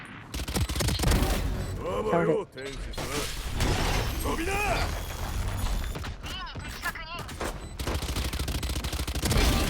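Gunfire in the tactical shooter game Valorant, with rapid shots and mechanical weapon clatter, while someone talks excitedly over the firing.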